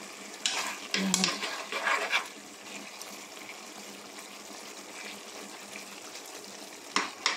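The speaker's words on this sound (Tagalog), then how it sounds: "Haluin muna natin" Pork giniling being stirred in a frying pan, a scraping utensil and gentle sizzle close by, with a few louder clatters early and near the end, fairly quiet overall.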